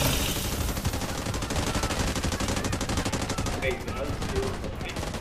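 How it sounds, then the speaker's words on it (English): An artillery barrage and dense gunfire in a video game, with a continuous loud roar of rapid shots and blasts throughout, close and unbroken. "Artillery barrage incoming."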